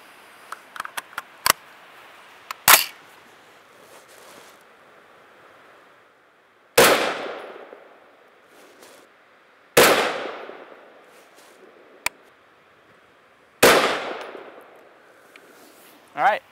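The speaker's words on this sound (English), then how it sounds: "we're going to go ahead and shoot another three-shot group based on the 8 clicks of elevation" Three loud, sharp rifle shots from a three-shot group fired with a thermal scope, spaced a few seconds apart, each ringing out with a decaying tail, plus fainter clicks and knocks between them.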